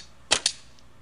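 An arrow loosed from a steam-bent oak and glass recurve bow gives one sharp, close snap followed quickly by a second shorter crack, then quiet.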